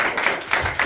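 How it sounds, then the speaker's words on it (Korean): An audience claps together in a church training session, a steady patter of applause in short swelling waves, fairly close and filling the whole brief moment without any voice over it. "우리 박수 한번 할까요?"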